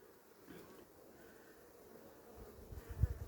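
A faint, steady buzz of many honeybees humming together inside an open hive during inspection, with a soft thump near the end.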